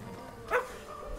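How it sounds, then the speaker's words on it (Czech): A single short bark from a dog in a children's online advent-calendar game pops out briefly over a low, steady background. "Vrčí a štěká."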